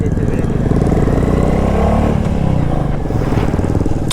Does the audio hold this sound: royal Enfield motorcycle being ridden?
yes